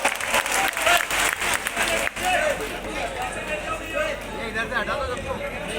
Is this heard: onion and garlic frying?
no